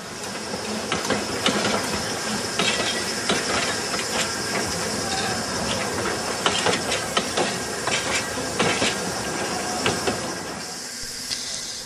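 A steam train of the Talyllyn Railway, a Welsh narrow-gauge heritage line, rumbles into a station with loud hissing steam, clanks and metallic knocks, the noise rising and falling as it draws close.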